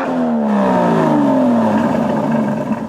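An Aston Martin DB11 exhaust in Grand Touring mode drones loudly and steadily as the engine pulls, its pitch sweeping down then climbing again, with no talking over it.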